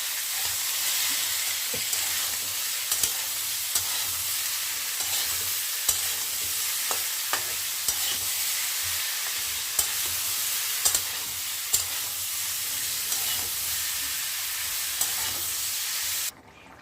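Potatoes with salt and turmeric fry in a pan with a steady hiss, while a spoon scrapes and knocks against the pan at regular intervals, close and without speech.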